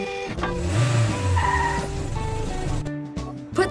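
Engine whine of the Red Racer car in a video game, a loud revving tone with squeal-like pitch changes and a brief skid toward the end, alone without speech.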